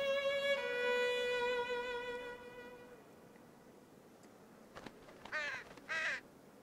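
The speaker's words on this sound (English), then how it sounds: "The little crow first attacks the eyes." A small crow caws near an animal carcass in the Australian bush, giving a few short, harsh calls after a long sustained tone fades, loud and close with no speech.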